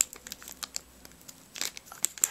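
A Pokémon Primo Groudon booster pack is torn open by hand, crisp foil crinkling and ripping in short bursts that build toward a sharper tear near the end, close and without talk.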